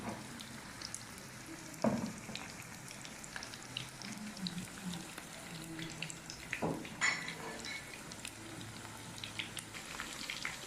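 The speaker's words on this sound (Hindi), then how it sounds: "अच्छी तरह से फ्राई हो चुके हैं, बाकी हो रहे हैं" Chicken koftas frying in a pan give a steady soft sizzle and bubbling throughout, with a few louder pops and crackles over the continuous hiss, and no voices.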